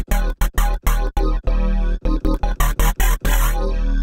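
Synthesizer notes are played one after another while the envelope is adjusted. Short plucked stabs gradually lengthen into sustained tones, loud and close, with no talking.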